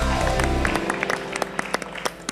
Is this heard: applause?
yes